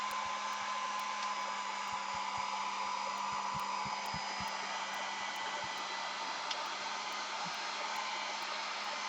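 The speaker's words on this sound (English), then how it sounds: "Hair dryer." A handheld hair dryer blows steadily at close range, drying a gel plate print with stencils, a continuous airy whoosh with a low motor hum that holds unbroken throughout.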